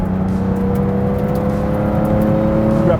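A Porsche 911 ST engine pulls strongly in fifth gear on a downhill stretch of road, a loud, steady, rising mechanical drone with a rising whine filling the cabin, with no talking.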